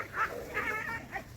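A dog whimpers in a farmyard, three short, high whining yelps spaced about half a second apart, fairly close but not loud.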